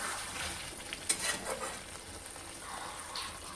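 Fish curry being stirred in a pan, a soft sizzle with a few scraping strokes and a brief metallic clink near the start, fairly quiet and close.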